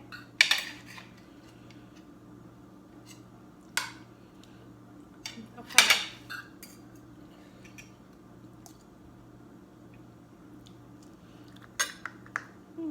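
Plates and dishes handled at a home meal table, with a few sharp ceramic clinks and clatters spaced several seconds apart over a quiet background hum.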